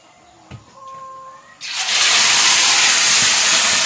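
Hot cooking oil erupts into a loud, sustained hiss and spattering sizzle that starts suddenly partway through and stays intense, after a quieter stretch of faint tones and small knocks.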